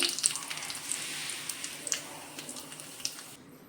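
Mustard seeds and curry leaves sizzle in hot oil as a tempering with the gas turned off, a steady soft crackle with scattered sharp pops, close and fairly quiet, fading out near the end.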